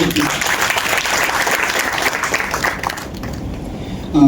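Loud audience applause at a seed spices workshop in Rajasthan: dense, steady clapping that fades after about three seconds, with a voice starting at the very end.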